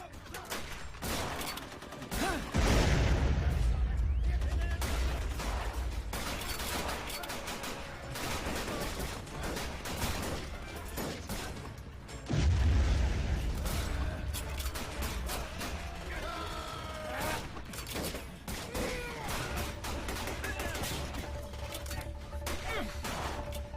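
Heavy gunfire and artillery shell blasts in a patriotic war film battle scene, dense rattling volleys with two big booming explosions, loud and continuous, with shouted voices mixed in.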